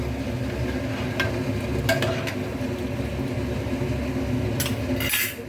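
A spoon scrapes and clinks against a pot while tomato tamarind broth is stirred, with a few sharp metallic taps over a steady background hum.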